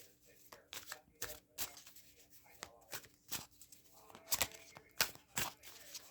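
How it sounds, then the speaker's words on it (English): Playing cards shuffled by hand at a tarot-style reading table, with a run of sharp riffling bursts and snaps spaced irregularly, fairly close and moderately loud over a quiet background. "I will shuffle cards some more"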